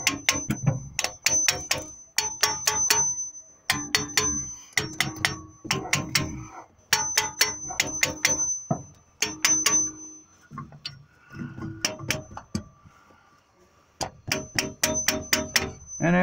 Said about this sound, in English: They all sound like they're moving when I hit it with a hammer.